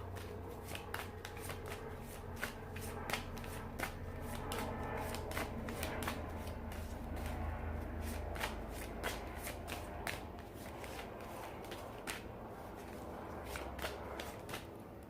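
Tarot cards shuffled for a love reading, a steady run of crisp riffling flicks and soft slides repeating close by with no voices over them.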